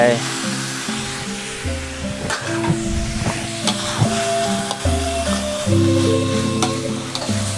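Tomatoes fry in a pan for Northern Thai nam prik ong, giving a steady close sizzle broken by scraping stir strokes, with tonal background sounds running throughout.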